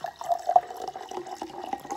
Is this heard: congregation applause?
no